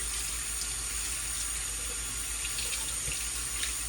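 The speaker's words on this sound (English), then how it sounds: "But then you rinse it off." Water runs steadily from a tap while silver jewelry is rinsed under it, a constant close hiss and splash with no talking.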